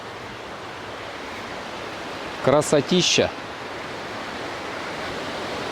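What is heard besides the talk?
mountain river flowing near a waterfall in Sochi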